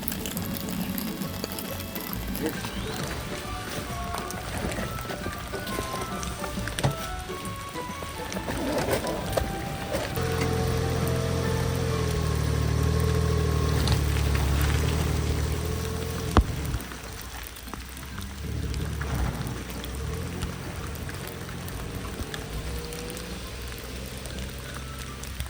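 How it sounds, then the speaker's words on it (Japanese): Heavy rain pours steadily in the open, a dense close wash of drops with a deeper rumbling swell midway, apparently water running or splashing nearby, and no talk over it. "いや、雨やばいなこれ。"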